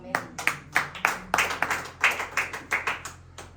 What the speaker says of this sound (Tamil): கைத்தட்டி ஆண்டவரை மகிமைப்படுத்தலாமா?